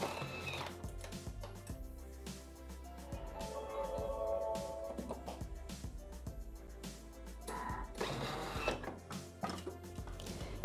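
A Thermomix food processor chops carrots at speed 7, giving a steady mechanical whir with gear-like rattling and clattering bursts for about ten seconds, moderately loud with no talk.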